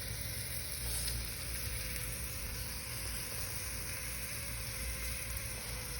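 Juicy Rogerwood sausages sizzle on a grill, a steady close hiss and crackle of fat with no other sounds.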